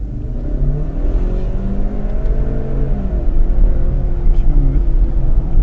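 A car on a driving-school session rises in pitch as throttle is added, its steady engine drone holding up close and loud, with brief voices over the rumble.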